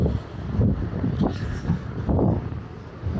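Wind gusts buffet the microphone on the aft deck of the Carnival Firenze cruise ship, a rough, surging rumble rising and falling with faint ship ambience beneath.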